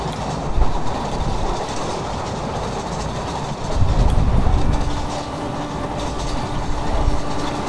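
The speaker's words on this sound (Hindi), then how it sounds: "देखते हैं अब कौन सी ट्रेन हमें अप्रोच करेगी और तगड़ी वाली क्रॉसिंग देगी" A train rumbles past steadily in the Open Rails simulator, with rolling rail noise and clickety-clack swelling louder midway as another train crosses close by, no voices present.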